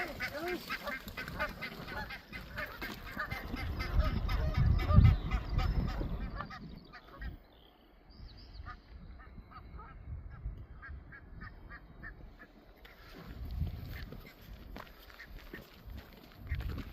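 Geese on a canal towpath walk, honking and quacking in a loose series of calls, fairly close in the first half and thinning out later, with light ambient outdoor noise and occasional quiet voices.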